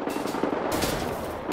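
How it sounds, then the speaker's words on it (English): Gunfire in the video game Wolfenstein The New Order: a sustained, dense stream of loud automatic shots that fills the whole moment with no break and no talking. "Why are you shooting at me?"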